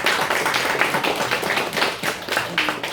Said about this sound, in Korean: 우리 한번 환영의 박수하도록 하겠습니다.